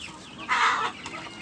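A large free-range village rooster gives a single short cluck, fairly faint, with quiet background around it.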